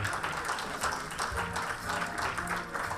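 Audience applause for Vittorio Cecchigori at the Miss Universe Italy 2018 event, a steady wash of many hands clapping at moderate loudness, with a faint murmur of voices underneath.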